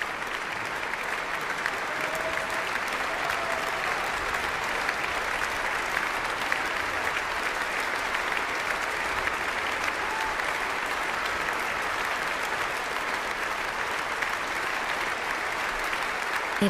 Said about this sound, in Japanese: そして止むことのない拍手に応え、辻井さんはアンコールを披露することになりました